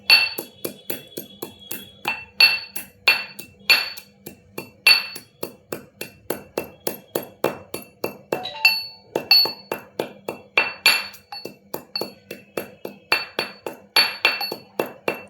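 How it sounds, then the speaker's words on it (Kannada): Cardamom and black pepper pounded into a coarse powder, with a steady run of sharp, close knocks from the pestle striking hard, in a regular rhythm. "ಏಲಕ್ಕಿ ಹಾಗೂ ಮೆಣಸು ಹಾಕಿ ಪೌಡ್ರ್ ಮಾಡ್ಕೋಬೇಕು ತರಿ ತರಿಯಾಗಿ ಆದರೂ ಸಾಕು"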